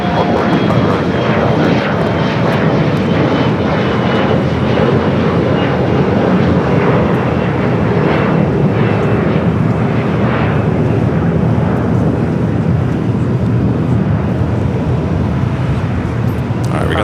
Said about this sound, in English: we got the flight to Vancouver already rocking and rolling down the 25 at right